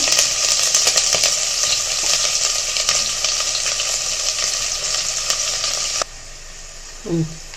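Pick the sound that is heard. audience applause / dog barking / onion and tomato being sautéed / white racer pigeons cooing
onion and tomato being sautéed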